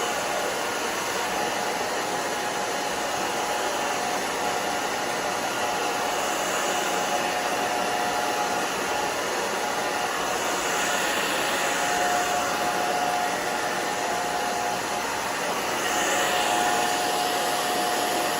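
A hair dryer blows continuously while drying the back of a layered bob on mature hair in a salon, a loud, steady, close airy roar with no talking.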